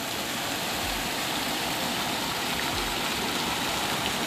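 Irrigation water gushes steadily out into crop fields, drained from a swimming pool built in a truck, a dense continuous rushing wash with no pauses, loud and close.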